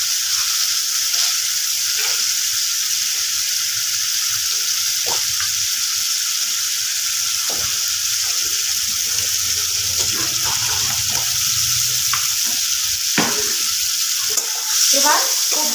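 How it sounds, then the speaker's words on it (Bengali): Fried potatoes and cauliflower are stirred into a sizzling spice curry for a cauliflower and bhetki fish kalia, giving a continuous hiss of frying with occasional scraping clinks of the spoon and no talk. "এবার খুব ভালোভাবে নাড়াচাড়া করে নেব, মশলার সাথে মিশিয়ে নেব।"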